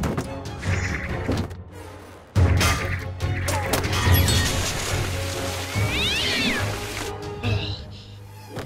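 A giant cartoon cat meows and yowls in a Marvel Super Hero Adventures short, its drawn-out cries rising over crashes, thuds and animated action sounds, with some voices mixed in.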